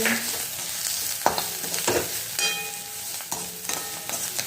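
Red chili powder, turmeric and salt sautéing in a pan, a steady hiss of frying with repeated scrapes and stirring strokes, close and fairly quiet, with no talking.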